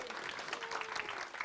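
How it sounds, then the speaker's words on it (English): Applause from the audience at a Longmont Sister Cities Association annual meeting opening the 2026 Sister City Exchange, a steady, fairly faint patter of many hands lasting briefly, with a faint voice tone running beneath it. "Let's give a round of applause."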